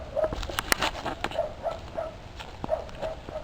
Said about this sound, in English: I can hear Trixie barking